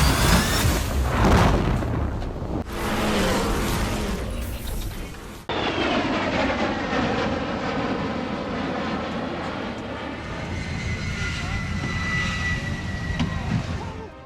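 An F-16 jet fighter at the 2011 EAA Fly-In Airshow in Oshkosh, Wisconsin roars loudly down the runway, a heavy jet blast with abrupt cuts and a rumbling, booming roar sustained through the scene.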